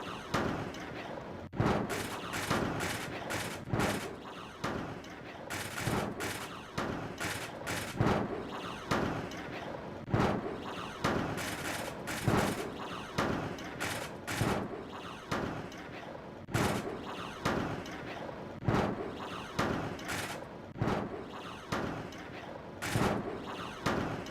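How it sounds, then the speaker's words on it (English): A creature banging around inside a metal locker in the video game Silent Hill 3: repeated sharp, loud thumps and clangs in irregular clusters, continuing steadily throughout. "this guy, of course, banging around in the locker"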